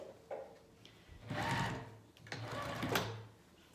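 A sewing machine restitches a high-stress seam on pajama pants in two close bursts of rapid, mechanical stitching, each about a second long. The bursts are separated by a brief, quieter pause.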